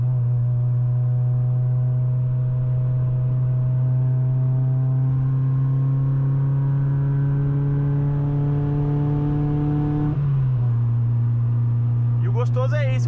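Chevrolet Astra 16v driven on a highway, its engine droning loudly and climbing steadily in pitch under acceleration, then dropping sharply as it shifts gear before pulling again.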